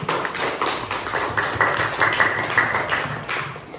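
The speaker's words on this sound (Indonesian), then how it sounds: "Kasih tepuk tangan dulu untuk ini." Schoolchildren in a fifth-grade classroom give a round of applause, a dense burst of many hands clapping together that fills the whole moment at moderate loudness.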